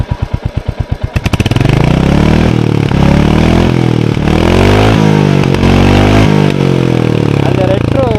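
A Royal Enfield Hunter 350 motorcycle engine thumps in an even idle beat, then revs up sharply and holds a loud, rough, high-revving roar with a few dips, very close.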